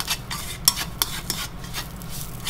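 Sausage fat sizzling in a frying pan, a soft crackling hiss broken by a few sharp clicks and taps of a utensil against the pan, close and alone.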